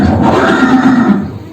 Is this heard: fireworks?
no